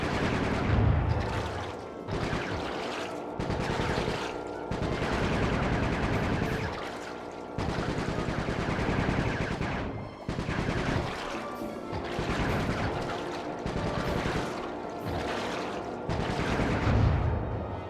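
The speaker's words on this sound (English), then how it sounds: "Nice shooting, Bentley." Gunfire in Sly Cooper 3: Honor Among Thieves, a 2005 game, comes as loud, dense bursts with short gaps, rattling over a busy game soundtrack for the whole stretch.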